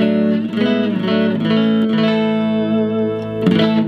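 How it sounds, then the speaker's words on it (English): A 1967 Fender Jaguar electric guitar in Fiesta Red, played on its rhythm circuit through a stock 4x10 Fender Hot Rod DeVille amp, rings out in sustained strummed chords with a warm, mellow tone, loud and close. "Fender Jaguar, original custom color Fiesta Red, matching headstock, binding and blocks, going through a stock 410 Hot Rod DeVille"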